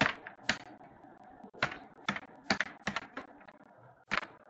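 A project name typed on a computer keyboard, with scattered sharp key clicks arriving in short irregular bursts, close and clear with quiet gaps between strokes.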